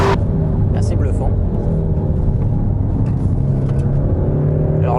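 Peugeot 308 GTi by Peugeot Sport, 2016, driven fast on a dry race circuit, with a steady loud engine drone and road rumble running throughout, while someone talks over it.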